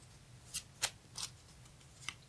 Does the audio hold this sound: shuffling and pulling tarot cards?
yes